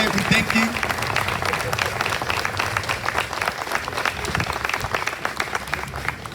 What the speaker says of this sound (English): I would love for us to give, again, a round of applause to the staff